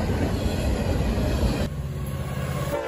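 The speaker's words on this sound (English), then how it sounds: "the final ever train of 2021 being NS11K" Norfolk Southern freight train NS11K rolls past at Macungie, Pennsylvania, a loud, close rumble of wheels and cars with a high whine above it, dropping to a steadier lighter roll partway through.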